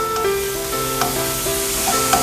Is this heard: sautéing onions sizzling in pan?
yes